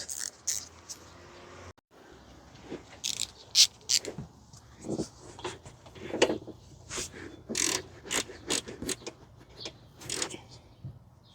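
A ratchet tightening the throttle body bolt on a 2015 Toyota Sienna AWD with the 3.5 V6 2GR-FE engine, a quick series of close clicking strokes in uneven bursts with faint background noise.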